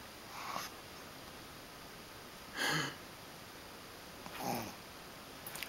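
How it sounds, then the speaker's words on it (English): A sleeping female dog snoring indoors, three separate rasping breaths spaced a couple of seconds apart over a steady background hum, the middle one loudest, with no voices. "How can a lady snore this loudly?"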